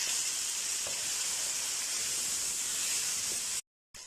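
Tomatoes sizzle in a hot kadai for an egg and green onion breakfast, a steady close frying hiss that holds evenly before a brief silent gap.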